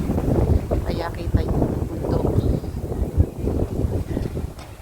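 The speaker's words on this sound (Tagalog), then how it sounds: "Malakas yung hangin." Strong gusty wind buffets the microphone with a steady low roar in Torreblanca Park, Barcelona, with muffled voices underneath.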